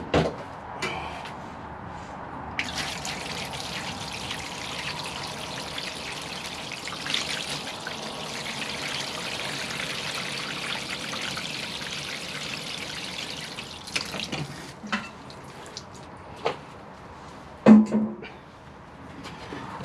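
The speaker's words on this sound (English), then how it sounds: "We'll just give that a water through." Water poured through fresh soil around a Portulacaria afra bonsai, a steady close trickle and splash running for several seconds, then easing off into scattered small knocks and handling sounds near the end.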